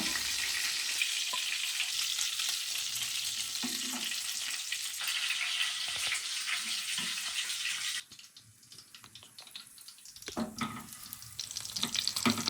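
Oil sizzles and crackles steadily as chicken satay sticks fry. Partway through the hiss drops away, then softer bubbling and clinks return.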